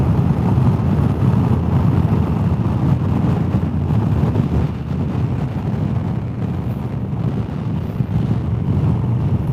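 Strong side wind buffeting the microphone while riding a Honda Africa Twin motorcycle, a steady loud low roar with gusty fluctuations throughout and no talk.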